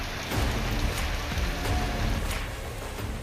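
Heavy monsoon downpour in Mumbai, a dense, steady rush of rain hitting surfaces at close range, loud and continuous with slight surges, and no speech over it.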